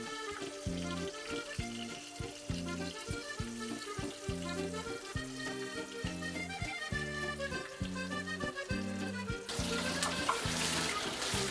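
Fries sizzle and crackle in hot oil with a dense, steady hiss, joined near the end by a louder burst of spattering.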